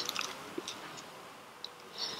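Crunchy bread top being bitten and chewed right at the mouth, giving a few quiet, crisp crackles near the start and again near the end over a soft, faint background.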